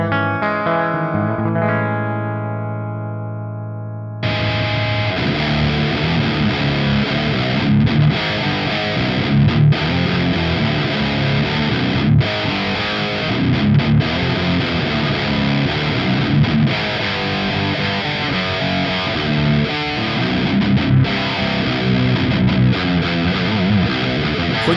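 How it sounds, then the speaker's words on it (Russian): Electric guitar through a Chris Custom NitroGain distortion pedal, a coarse, fuzz-edged preamp-based drive: a few clean ringing notes fade, then loud, thick distorted chords and riffs play continuously. "По звуку это грубый дисторшн на грани фуза с очень крупным зерном."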